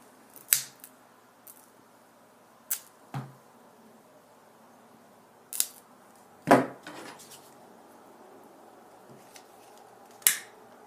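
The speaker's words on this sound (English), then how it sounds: "Trim off the excess." Scissors trimming excess paracord on a Star Wars Lego lanyard give a few sharp, isolated snips spread across a quiet background, each crisp and close, with no talk.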